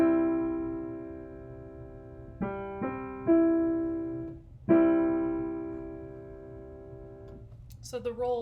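Piano-like sustained major triad in second inversion, rolled so the notes enter one after another, struck several times with decaying tones, alone with no talk until a brief voice at the very end.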